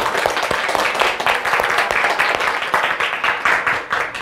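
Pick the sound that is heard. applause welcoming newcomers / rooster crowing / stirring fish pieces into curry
applause welcoming newcomers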